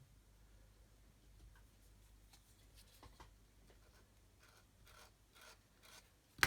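Gentle strokes scraping across a small plastic part of a Kitty Hawk 1/32 OV-10 Bronco model kit to clean off a sprue nib, faint close-up rasps and light ticks in a quiet room.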